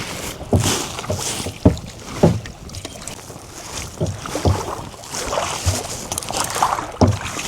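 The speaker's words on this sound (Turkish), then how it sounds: "Tek elimle kürek çekiyorum" Rowboat being paddled one-handed on water amid Vietnamese nature, with rhythmic oar splashes and strokes roughly every second over steady wind noise on the microphone.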